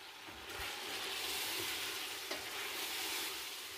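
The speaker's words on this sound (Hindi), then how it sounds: "अच्छी तरह से मिक्स करेंगे और इसे तकरीबन 2 मिनट के लिए पकाएंगे।" Spices and crushed black pepper stirred and frying in a pan for junglee pulao, a continuous close sizzle with a few scraping stirs of the spoon, no talking.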